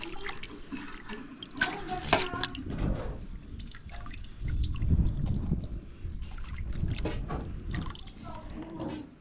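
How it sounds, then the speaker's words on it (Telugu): Cut fish pieces are rinsed by hand in a generous amount of water, with steady splashing, sloshing and dripping close by throughout, and a voice talking in places. "మొక్కలన్నీ కట్ చేసిన తర్వాత మళ్ళీ వాటర్లో క్లీన్ చేసుకుంటాం నీట్గా ఇట్లా ఎక్కువ నీళ్ళలో కనుక్కుంటే"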